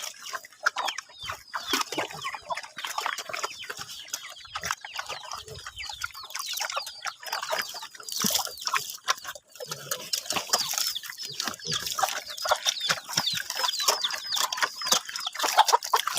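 Chickens cluck and chatter at close range while being fed on a rural farm, with busy, irregular bursts of clucking that continue throughout, along with some light watery sounds.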